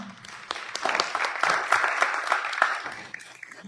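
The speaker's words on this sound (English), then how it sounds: "One more round of applause for them." An audience at an evening panel event on maternal health for Black women gives a round of applause, a dense burst of clapping that swells and then fades, with no talk over it.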